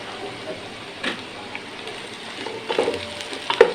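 Bell pepper (capsicum) frying in a pan for beef vegetable pasta, a steady soft sizzle with occasional stirring scrapes and clinks toward the end.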